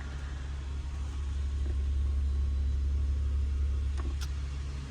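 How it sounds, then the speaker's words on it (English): A 1996 Toyota Windom idles indoors in a showroom, giving a steady, unbroken low rumble close by with no voices over it. "I'm going to go ahead and turn the engine off"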